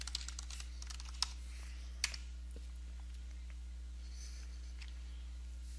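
Keystrokes on a Mac computer keyboard while an administrator password is entered, a quiet run of soft clicks with a few sharper taps, heard alone over a steady low hum.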